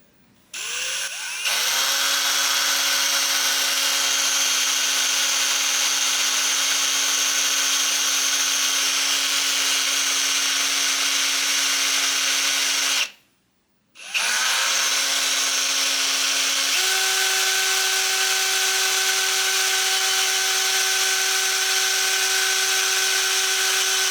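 A power drill with a small bit bores a hole into a BMW M54 2.5L engine block, a loud, steady whine that runs continuously, cuts out briefly, then resumes at a slightly higher pitch.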